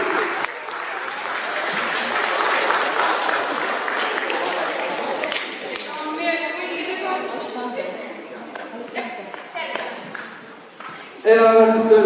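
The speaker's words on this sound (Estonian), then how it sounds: "Ja aplaus." Audience applause at a school graduation-style celebration, a broad steady wash of clapping lasting most of the stretch, fading toward the end as a voice speaks over a microphone, then a brief renewed burst.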